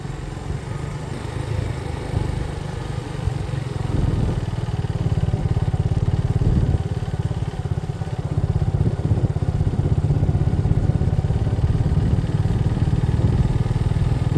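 A motorcycle engine laboring up a steep mountain road toward Keokradong in Bandarban, a steady loud mid-pitched drone with clattering that grows slightly louder and holds constant throughout, no talking.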